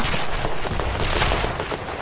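Continuous gunfire rattles through a battle in the video game Fog of War, a thick, loud barrage of overlapping shots and bursts with no let-up and no voices.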